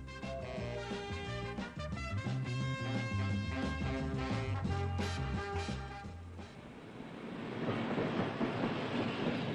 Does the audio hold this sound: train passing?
yes